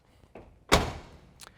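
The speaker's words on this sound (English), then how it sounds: "Again, both doors open and close real easy." The door of a 1969 Chevrolet Camaro swings shut with a single solid thunk, close by, followed by a light click or tap a moment later; no talking.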